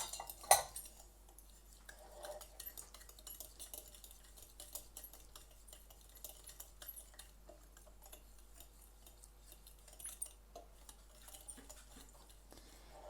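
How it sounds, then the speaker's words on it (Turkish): A fork stirs a cocoa cake mixture in a bowl for a mosaic cake, making light, quick metallic taps and scrapes that go on steadily throughout, with no talking. "Ve bir miktar daha karıştırıyorum."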